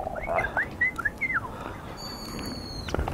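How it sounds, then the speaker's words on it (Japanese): A Japanese bush warbler sings in spring among cherry blossoms, giving a few clear whistled phrases that rise and fall over steady wind noise, followed by a thin high-pitched tone. "でかいうぐいすだよ、これ。"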